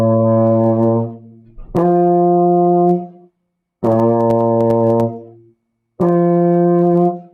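A brass instrument sounds open notes with no valves pressed, four sustained tones in turn, low then higher then low then higher, each loud, clear and rich in harmonics with short silent gaps between.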